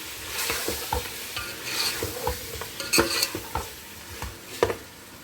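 Garlic-ginger paste sizzles softly in a pan while a spoon scrapes and taps against it in irregular stirring strokes, close and fairly quiet.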